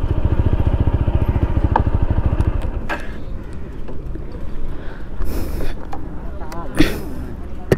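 A motorcycle engine idles loudly with a steady throb, then cuts out while the bike is parked in rain. A person talks over the engine and afterward, with a few clicks and thumps.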